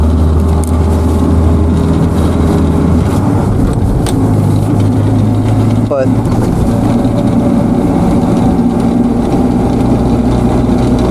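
A new truck's engine hums steadily while driving in second gear, a loud, constant low drone from inside the cab as someone talks over it.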